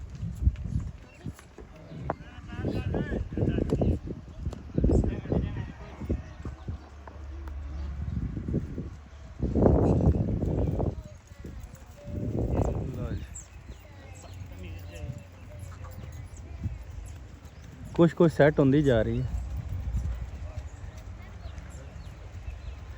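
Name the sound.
horse hooves clip-clopping, mare walking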